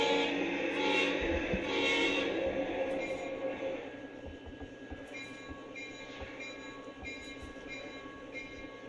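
A model diesel locomotive runs around a track layout with a steady close rumble and whir, light rhythmic wheel clicking over rail joints, and a faint tonal hum that fades slightly as it moves along.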